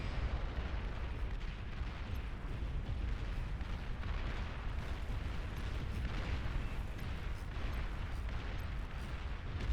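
Tremor artillery shells pounding the ground in the strategy game Beyond All Reason, a dense continuous rumble of overlapping booms and low impacts, heavy and sustained without pause.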